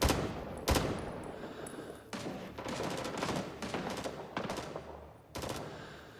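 Bursts of enemy gunfire in the Vietnam War shooter Rising Storm 2: Vietnam, loud rapid rifle and machine-gun volleys cracking in repeated clusters over a dense battlefield roar, with a few sharp single shots standing out.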